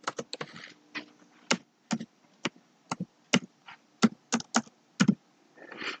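Password keys tapped on a computer keyboard, heard as a dozen or so sharp, separate clicks in an uneven rhythm with short pauses between them, close and clear in a quiet room.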